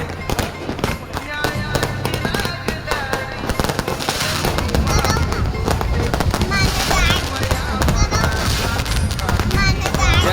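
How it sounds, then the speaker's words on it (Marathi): Firecrackers and fireworks burst at midnight outside a housing society during an Ambedkar Jayanti celebration, a dense, continuous barrage of cracks and bangs with people's voices mixed in. "रात्री 12 वाजता आमच्या मधुबन सोसायटीमध्ये जयंतीनिमित्त फटाक्यांची जोरदार अशी आताशबाजी करण्यात आली।"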